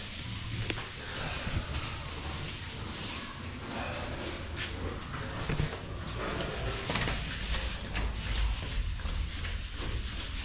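Sandpaper is rubbed by hand over a steel window frame, giving a continuous close rasping scratch with uneven strokes and occasional sharper scrapes, fairly quiet.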